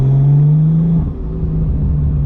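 Nissan R32 with a stock turbo, its engine droning loud and close in a steady hum that dips briefly and settles back to a smooth running note.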